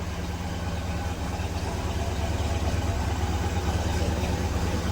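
A 1969 Ford Cobra engine idles just after a cold start, a steady, deep, droning rumble held close and even throughout with no revving and no voices.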